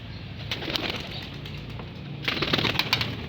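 Pigeons cooing in a loft, a soft low murmur of several birds close by, with a brief flutter and rustle that grows slightly louder toward the end.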